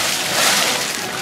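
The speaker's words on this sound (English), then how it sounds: "Your splash wasn't tsunami." A splash from someone jumping into water, a broad wet burst of spray and sloshing filling the short moment, with voices nearby.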